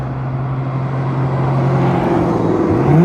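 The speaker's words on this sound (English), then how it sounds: "it sounds like some exotics are coming this way. That's a Corvette." Sports cars including a Corvette, a Toyota Supra and a Porsche drive past on a road, engine noise growing steadily louder with a rising pitch near the end as they approach, heard alone with no talk.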